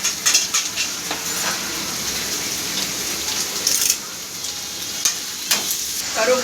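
Onions frying in a pan, steady close sizzle broken by scraping stirs and occasional clinks of a utensil against the pan.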